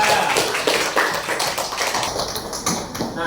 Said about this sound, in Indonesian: Kasih tepuk tangan buat teman kalian.